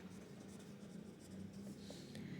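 Pen or pencil scratching on paper while a maths problem about a carpenter cutting planks is written out, a steady soft scraping close by over a low hum, with no talk.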